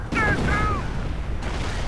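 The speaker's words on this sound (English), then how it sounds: "The barrage ends." Artillery barrage in Company of Heroes, heard as booming impacts and rumbling blasts with whistling rockets overhead, mixed with battle noise and a voice.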